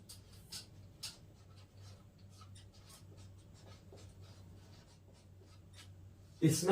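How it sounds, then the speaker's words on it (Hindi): A pen scratches out notes during a biology lesson on leaf modification, giving soft, close scribbling strokes over a low steady hum, ending in a louder bump. "इसमें लिखते हैं हम पॉइंट बना के"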